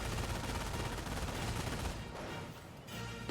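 Dense, continuous machine-gun fire from a Schwimmwagen strafing engineers in the World War II strategy game Company of Heroes, loud and sustained with no talking and a brief dip in intensity near the end.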